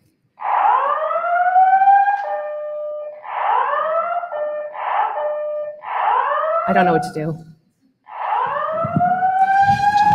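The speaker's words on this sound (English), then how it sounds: "Apparently, a false alarm." A loud electronic fire alarm, a false alarm during a conference talk, sounds in repeated rising whooping bursts with short gaps, while a person speaks briefly partway through.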